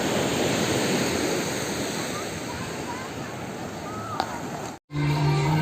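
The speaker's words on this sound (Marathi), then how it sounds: "इथे समोर समुद्र आहे" Sea waves at night on Agonda beach in South Goa, a continuous loud wash of surf with wind buffeting the microphone, cut by a brief dropout near the end.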